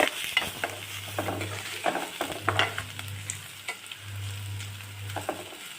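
Chopped onion and four cut garlic cloves frying in a little oil for a greens stir-fry: a soft, continuous sizzle up close, broken by repeated scraping strokes of stirring and a low intermittent hum.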